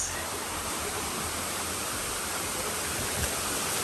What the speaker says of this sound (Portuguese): É essa a primeira cachoeira?